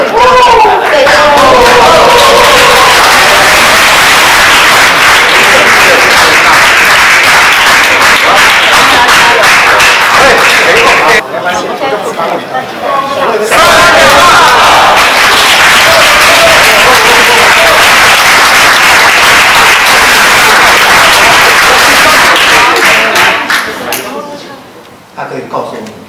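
A crowd applauds steadily at a high school basketball championship celebration, honoring the principal and coaches; the dense clapping swells loudly, dips briefly about halfway, then resumes before fading near the end.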